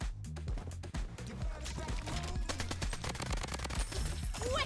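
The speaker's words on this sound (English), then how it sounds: "He's shooting me." Rapid automatic gunfire in the first-person shooter Bloodstrike, dense bursts of loud close shots rattling almost continuously throughout, with no pauses and no talk over it.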